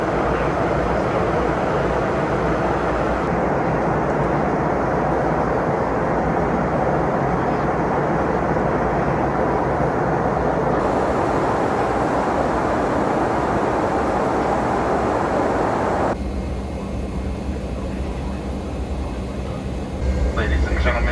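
A Delta MD-88 airliner in flight fills the cabin with a steady, broad engine rumble and rush of air. A voice talks over it for most of the time.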